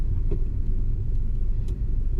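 A Mini R52's engine pulls away from a green light with air conditioning running, a steady low car rumble and road noise continuing throughout at close range.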